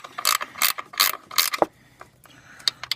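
Ratchet wrench tightening adjustment screws under a Jeep Cherokee 4.0L during oil pan and water pump work; four loud, quick bursts of clicking ratchet pawl strokes, then several lighter clicks, close up with no talk.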